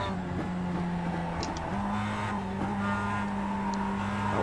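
Production car racing around Lime Rock Park in the iRacing sim, its engine droning steadily and loudly throughout with shifting pitch as the throttle is worked, no talk over it.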